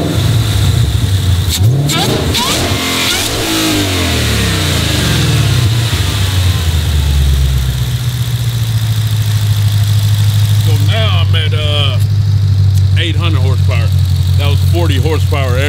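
Ford Shelby GT500 V8 engine revving hard near the start, then settling into a steady, loud idle, with people talking over it in the second half.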